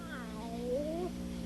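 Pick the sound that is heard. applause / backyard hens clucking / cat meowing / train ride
cat meowing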